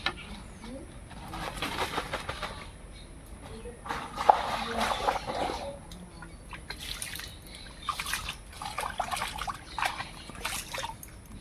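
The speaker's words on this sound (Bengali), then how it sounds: "সব মাছগুলো বাছা হয়ে গেছে এবারে ধুয়ে নেই" Koi fish being rinsed with water in a village home kitchen, with intermittent splashing and trickling under a voice, while pigeons or doves coo nearby.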